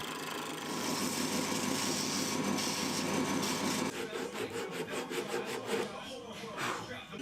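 Steady abrasive rubbing of wood sanded by hand, continuous at first, then breaking into quick back-and-forth strokes, close and moderately loud.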